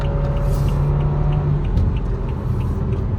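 A boosted 2013 BMW 323i drives along with a steady, loud low engine rumble and road noise, heard from inside the cabin without any talking.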